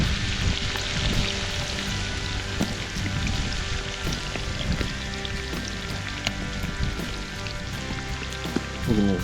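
Pork belly fries in a cauldron over a campfire with a dense, steady sizzle and crackle and scattered sharp pops throughout, close and fairly loud, with no talk.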